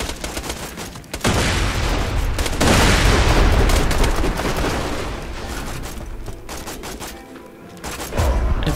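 Borderlands 2 firefight with dense bursts of gunfire, a grenade blast and booming impacts, loud and nearly continuous, with brief gaps and a renewed volley at the end.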